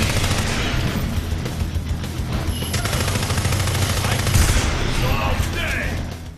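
Rapid, dense bursts of shotgun fire in the NeverDead video game, loud and continuous, mixed with booms and mechanical clatter in a sewer fight.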